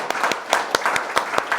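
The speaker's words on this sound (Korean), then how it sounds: "박수로 수업을 끝내도록 하겠습니다" A high school class applauds at the end of a literature lesson built around a debate, with a short burst of sparse, uneven hand claps nearby and no talking.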